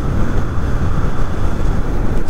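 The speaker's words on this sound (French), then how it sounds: "Alors qu'il y a énormément de vent, hein." Strong wind buffets the microphone while a Dualtron Thunder III electric scooter is ridden at high speed. The roar is loud, constant and low-heavy, and no one speaks.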